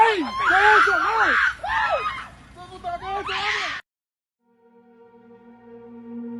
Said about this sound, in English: causes the crowd of people surrounding it to freak out and scream even harder than before, absolutely horrified